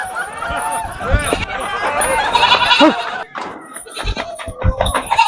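A goat bleats a few times among lively overlapping human voices, with the animal calls close and fairly loud, breaking through the chatter.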